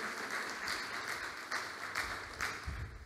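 A church congregation applauds during a Sunday service, steady and dense with many overlapping claps, moderately loud and slightly distant, continuing throughout without voices.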